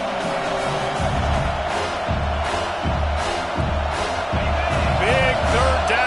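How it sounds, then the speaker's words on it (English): Football stadium crowd roaring in support of the defense on a big third down in the red zone, a steady loud wash of cheering with a commentator talking over it. "this crowd is getting behind this defense"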